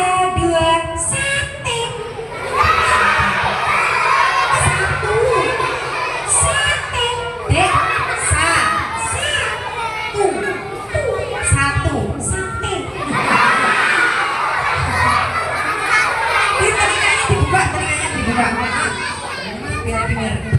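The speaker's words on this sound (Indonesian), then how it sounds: "kita selawatan dulu bareng-bareng bisa?" A crowd of kindergarten children at an Islamic school chant shalawat together, loud, shouted phrases rising and falling in unison, filling the space continuously for about twenty seconds.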